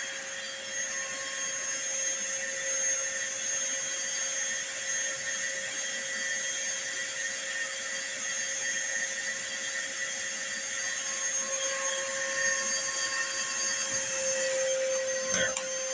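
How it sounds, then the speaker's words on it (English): A vacuum cleaner runs steadily throughout, powered by an ALLPOWERS 2000S power station, with a constant motor whine and whir, close by and fairly loud, with a brief clatter near the end. "And now we're going to run this vacuum here."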